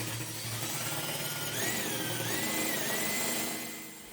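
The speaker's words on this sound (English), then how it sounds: "Let's test it with a 1700 RPM drill." A handheld 1700 RPM drill spins a homemade air duct cleaning brush on a rod, giving a steady close whirring motor hum with a rising, wavering whine through the middle as the brush bounces and wobbles.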